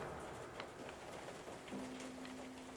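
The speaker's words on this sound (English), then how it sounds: "It's not supposed to be raining in here." Steady indoor rain in the video game Layers of Fear 2 patters on a surface, a soft continuous hiss with scattered drops, and a faint tone rises near the end.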